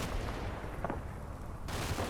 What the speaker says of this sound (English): machine guns seem busy